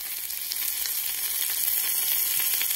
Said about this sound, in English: now I put the rolls on my skillet together with the bundle of the stem